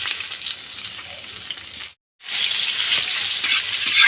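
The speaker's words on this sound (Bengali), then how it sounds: "আমি এখন চিংড়ি মাছ ভেজে নিচ্ছি" Prawns frying in hot oil give a close, dense crackling sizzle with stirring, cut by a brief silent gap midway before the bright frying noise returns just as strongly.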